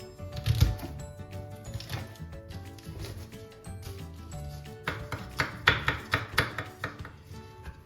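A knife crushes garlic cloves with salt on a board, starting with a few muted presses and then building into a quick run of sharp taps and scrapes that stay close and fairly soft.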